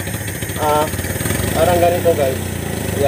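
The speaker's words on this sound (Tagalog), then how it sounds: "I-rev ko lang yung makina para mabilis siyang uminit" A Suzuki F6A carburetted engine revs up to warm, its mid-pitched drone rising and falling in a couple of surges while someone talks close by over it.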